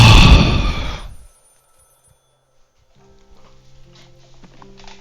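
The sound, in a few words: telephone ringing in video game Maid of Sker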